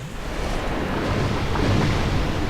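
A stronger enemy's water blast surges in Dark Souls, a continuous rushing, wave-like roar with low rumble that swells slightly toward the end, with no voices over it.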